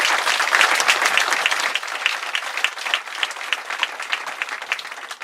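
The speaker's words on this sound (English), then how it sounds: "Please give these folks a big round of applause." Crowd applauding at a Tyson Foods groundbreaking ceremony in Humboldt, Tennessee, a full burst of clapping that gradually thins into scattered, lighter claps.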